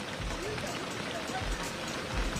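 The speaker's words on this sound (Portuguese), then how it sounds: "a chuva intensificou novamente" Heavy rain pours steadily during flooding in Canoas, Brazil, a dense continuous wash of drops hitting surfaces, with a faint voice briefly underneath.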